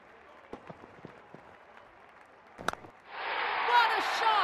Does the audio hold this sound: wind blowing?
no